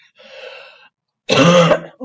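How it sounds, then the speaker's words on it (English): A short throat-clearing cough, two quick rough bursts, the second louder and close, with silence between and around them. "Sorry for the cough here."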